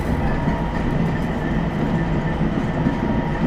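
A Bangkok Gold Line train nearing Charoen Nakhon station gives a loud, steady rumble and hum from inside the carriage, with faint track noise throughout and no speech.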